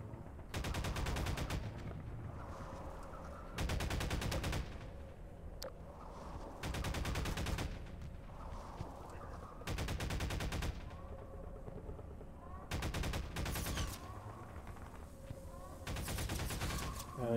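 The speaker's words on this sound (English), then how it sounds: "There's something shooting at you." Gunfire fills a Half-Life 2 custom campaign played in Garry's Mod: loud bursts of automatic fire come in repeated long volleys, with a low game hum and faint sounds between them.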